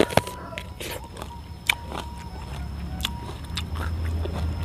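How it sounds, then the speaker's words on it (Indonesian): A crisp bite into a fresh ear of purple corn, a single sharp crunch followed by a few softer chewing and scraping sounds close to the microphone, with faint background hum. "Sekarang kita nyobain jagung buah ungu."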